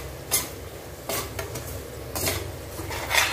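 A spoon scrapes and stirs vegetable pickle in a pan on a switched-off stove, with soft intermittent clinks of metal against the pan over a faint steady background.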